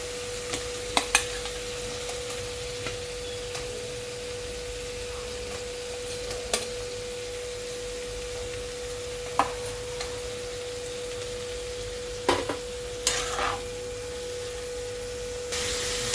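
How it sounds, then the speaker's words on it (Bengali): Fried potato and pointed gourd are sautéed with spices in a pan for a light rohu fish curry, giving a steady soft sizzle with occasional stirring scrapes and clinks throughout, close and unaccompanied by talk. "মশলার সঙ্গে আমি আলু পটলটাকেও কষিয়ে দিচ্ছি"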